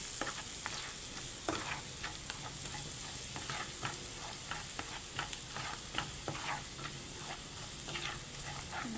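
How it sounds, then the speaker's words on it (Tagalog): Garlic sautéing in a pan with ginger, a steady close sizzle broken by repeated scraping stir strokes throughout, no voices. "Igisa lang natin siya nang maluto yung bawang."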